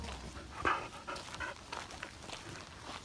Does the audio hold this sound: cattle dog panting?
yes